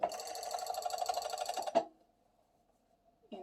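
Serger overlocking a seam on a sweater-knit romper, a dense rapid mechanical whir running steadily for under two seconds, then stopping abruptly with a faint hum and a brief clunk afterward.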